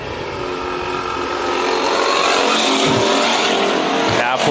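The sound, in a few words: race cars racing at Bakersfield Speedway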